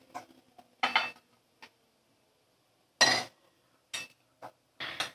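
Fried koftas are lifted out of a frying pan with metal utensils: separate clinks and scrapes of metal on the pan come in short bursts with quiet gaps between them, close and clear.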